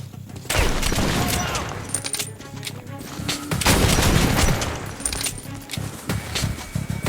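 Shotgun blasts in Metro: Last Light ring out amid a chaotic firefight, with heavy booms, metallic clatter and overlapping bursts, with voices mixed in.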